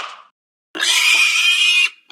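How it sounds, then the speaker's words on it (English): A pot-bellied pig in the You Don't Know Jack trivia game gives one sustained, loud oinking squeal of about a second, preceded by a short burst of other game sound and silence. "one of the interns brought in an adorable pot-bellied pig"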